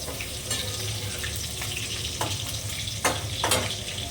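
Yogurt-marinated chicken chaap fries in a pan, giving off a constant wet sizzle and bubbling as water releases, with a few brief stirring scrapes and spits rising above the steady hiss.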